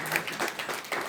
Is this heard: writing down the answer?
no